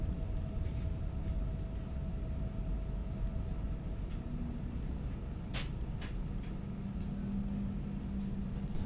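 A CP Alfa Pendular train arriving at Coimbra-B station gives a steady low rumble from inside the carriage, with faint squeals and a few brief clicks.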